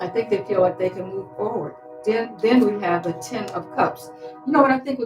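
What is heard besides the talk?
No everyday noises stand out.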